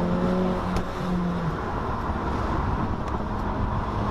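Engine and exhaust of a modified Subaru WRX droning steadily from inside the cabin while driving, a continuous loud rumble with a brief low tonal hum near the start.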